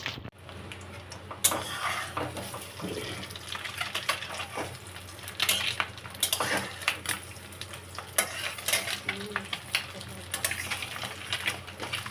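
An egg fries in oil in a pan, sizzling steadily throughout, with frequent clinks and scrapes of a utensil stirring against the pan, close up in a home kitchen.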